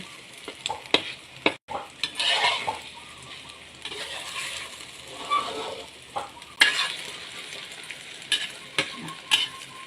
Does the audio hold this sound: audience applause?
no